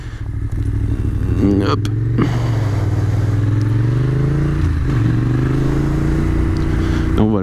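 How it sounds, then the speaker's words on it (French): A Yamaha MT-07 with a crossplane engine accelerates hard into a wheelie, its loud, close exhaust rising and falling in pitch while a rider speaks briefly over it. "MT-07 a beaucoup de couple pour ça, le crossplane fait bien son taf."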